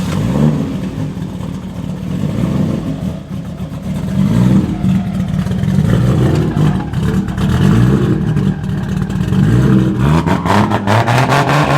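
A modified IS300 car engine roars and revs hard, loud and close, with a rough, fluctuating growl and mechanical clatter that continues throughout.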